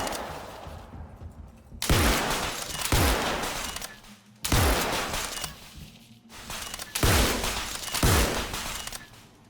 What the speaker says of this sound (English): Now hear how the electric shotgun sounds as we move to other spaces.